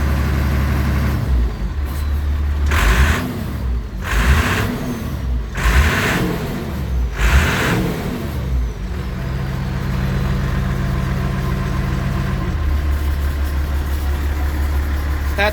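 An Allis Chalmers 200 tractor engine runs at a steady idle, with several sharp revs in quick succession partway through, then settles back to a low, even rumble heard close by.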